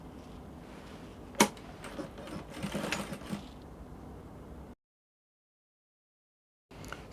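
A sewing machine stitches the seam of a pleated bishop collar in a steady run of rapid stitching, with one sharp click near the start. The stitching stops abruptly, and after a stretch of silence a short burst resumes.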